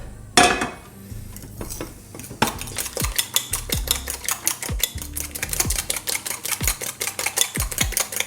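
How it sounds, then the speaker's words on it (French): Rapid rhythmic whisking of sweet potato flour batter in a bowl, beaten like an omelette, a steady fast series of close clacking strokes that continues for several seconds without talk. "on continue de battre comme une omelette"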